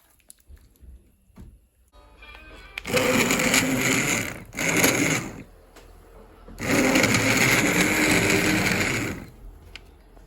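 Handheld stick blender with no bowl pureeing a pot of mustard-colored soup in a home kitchen, two loud whirring bursts of a few seconds each separated by a short pause, with quiet clatter before.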